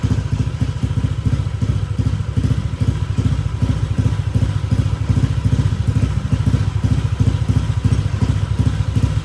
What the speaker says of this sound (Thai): อันนี้คือท่อยิงนะครับ กับแก้รอบเครื่องค้างนะครับ